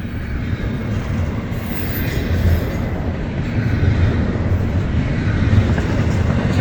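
A freight train hauling containers and new Amazon trailers rolls past at Magnolia with a loud, continuous rumble and rattle of wagons, steady and close throughout, with faint wheel squeal and no talking.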